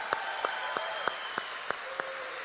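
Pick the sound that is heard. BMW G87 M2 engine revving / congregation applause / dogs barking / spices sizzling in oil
congregation applause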